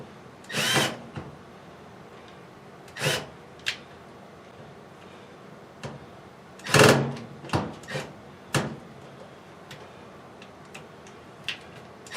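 Screws are driven into an LG Sensor Dry dryer door, model DLG7101W, with a few short bursts of a power driver whirring, separated by pauses filled with faint clicks and handling taps nearby.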